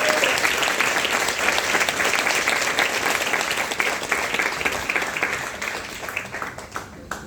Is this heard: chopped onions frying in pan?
no